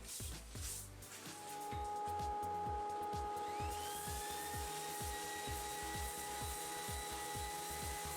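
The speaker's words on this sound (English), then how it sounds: "lately I've been trying to use my random orbit sander." A random orbit sander hums steadily with a faint whine, rasping against maple burl in a continuous close grinding drone.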